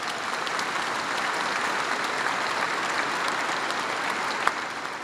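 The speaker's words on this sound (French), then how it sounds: "vous pouvez les applaudir" Steady applause from a gathered congregation at a baptism, continuous dense clapping throughout with one sharper clap near the end.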